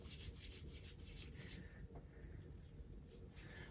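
Thick, very oily moisturizer being rubbed into skin, a soft continuous close rubbing and smearing with faint slick friction, steady throughout with no talking.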